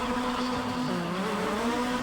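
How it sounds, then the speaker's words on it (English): Peugeot car engine in the Need For Speed ProStreet racing game, a steady droning hum held at an even level for the whole short stretch with no speech over it. "the Peugeot sounds good"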